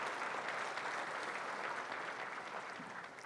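An audience at the UNOH Centennial closing ceremonies applauds a sponsor family, a continuous, even patter of many hands that eases off slightly toward the end.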